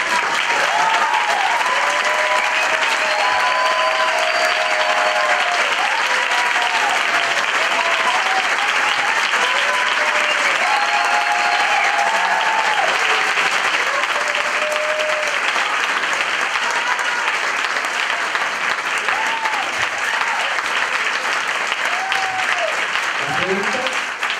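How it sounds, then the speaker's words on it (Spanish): Loud, sustained applause from a large lecture audience fills the whole stretch at steady volume, with a few voices calling out over the clapping. "fuerte aplauso."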